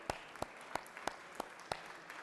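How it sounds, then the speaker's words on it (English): Hand claps in the Georgia Senate chamber for a visiting delegation in the gallery, coming as six slow, evenly spaced claps, faint and somewhat distant, without the dense wash of a full crowd. "If you would just give him a big hand clap."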